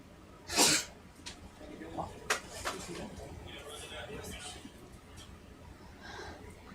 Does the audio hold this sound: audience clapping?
no